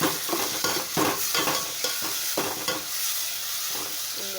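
Ingredients for tomato rice frying in a pan give a loud, continuous sizzle, broken by rhythmic stirring scrapes in the first few seconds, then settling into an even hiss.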